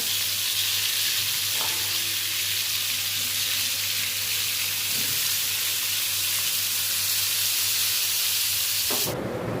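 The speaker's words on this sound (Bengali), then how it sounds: "পটলগুলো ভেজে নিব" Slices of pointed gourd (potol) frying in hot oil in a home kitchen, a steady loud sizzle with a low hum beneath and a few faint stirring knocks, ending in a sudden sharp burst.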